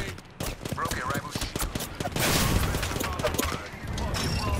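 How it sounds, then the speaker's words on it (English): Rapid gunfire from an Apex Legends match crackles in dense, overlapping bursts, loud and close, with a player talking over the shooting throughout. "Gunfire, and they're hitting me."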